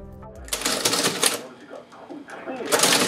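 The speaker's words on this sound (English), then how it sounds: "People of the 50s surely recall that satisfying cha-ching after a purchase." A vintage mechanical cash register, the 1950s kind, rings with bright metallic clatter and bell-like bursts in quick succession, loud and close, alongside a voice.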